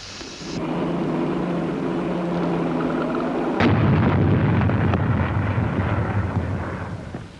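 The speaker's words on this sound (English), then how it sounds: "Bombs were set at strategic points on the airstrips." Bombs set on military airstrips explode in a heavy, sustained roar and rumble, with a sharper blast midway through, on an old 1944 wartime recording.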